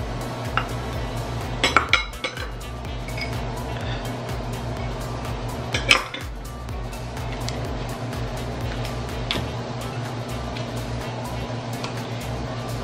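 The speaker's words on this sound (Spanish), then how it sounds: "agregamos todo y lo machucamos bien, dejamos que se integre bien el banano con la avena" A utensil mashing banana and oats in a bowl, with repeated clinks and scrapes against the bowl over a steady low background hum, plus a few sharper knocks.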